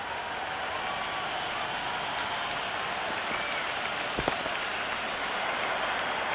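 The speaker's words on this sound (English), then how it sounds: "There's an almost tangible fervour throughout the crowd at the moment." A cricket stadium crowd at a CSK versus MI match makes a dense, steady roar of cheering and applause, broad and continuous, with a brief sharp spike partway through.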